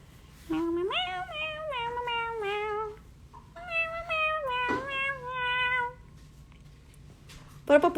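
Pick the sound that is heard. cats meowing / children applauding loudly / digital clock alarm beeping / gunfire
cats meowing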